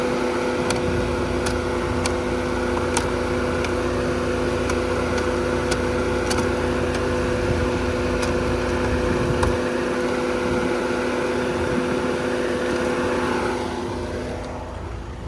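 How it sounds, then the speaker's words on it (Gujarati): A diesel car engine runs loudly and steadily at close range, its deep hum joined by faint regular ticking, then it fades slightly at the end. "આ ડીઝલ ગાડી આટલો બધો અવાજ કરે."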